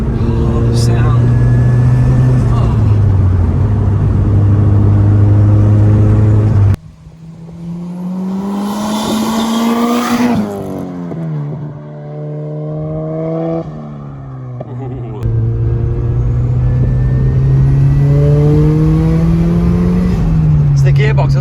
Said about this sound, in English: When you hear that turbo spooling